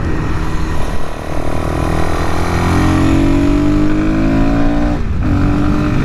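A Suzuki DRZ400SM motorcycle with an air box mod revs steadily close by, a loud continuous engine drone whose pitch climbs smoothly, dips briefly and rises again.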